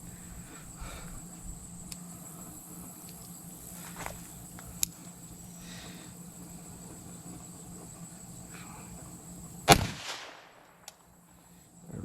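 A single sharp crack from a Phoenix .22 LR handgun fired outdoors, loud and close, breaking through quiet ambience of insects and distant faint noises.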